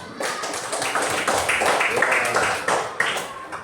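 Schoolchildren in a classroom clap together in a short, moderately loud burst of scattered, uneven claps, heard close.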